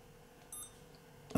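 A household appliance gives a short high beep, then a second brief tone, faint and alone in a quiet room.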